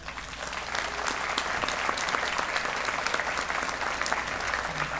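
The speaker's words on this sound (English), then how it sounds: "super excited to give a big round of applause" Sustained applause from an audience at a sponsored breakfast event, steady and dense across the whole stretch, with a faint voice briefly audible beneath it.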